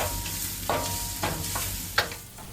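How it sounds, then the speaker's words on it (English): Ginger and garlic stir-fry in hot oil in a pan, giving a low steady sizzle with several scraping strokes of the spatula and a sharper scrape near the end, heard close up with no talking. "Stir until fragrant. Add more oil if the pan seems too dry."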